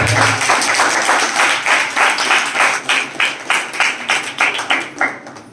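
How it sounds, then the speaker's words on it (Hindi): A worshipping congregation claps loudly in praise of Jesus. The broad applause gradually settles into regular rhythmic beats that slow and thin out toward the end. "प्रभु यीशु की ताली बजा दिया"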